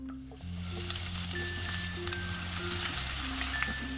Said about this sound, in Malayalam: നമുക്ക് ഗാർണിഷ് ചെയ്യാനുള്ള സവാളയും കാഷ്നട്ടും കിസ്മിസും ആദ്യം ഒന്ന് ഫ്രൈ ചെയ്തെടുക്കാം